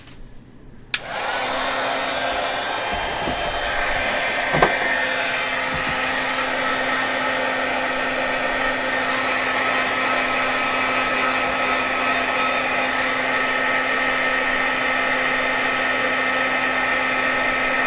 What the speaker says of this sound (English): And we're going to heat emboss these.